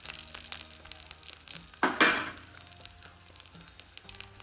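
Thai curry paste is stir-fried in a pan with a low steady sizzle, broken by a sharp louder burst of frying and scraping midway before settling back to a gentle hiss.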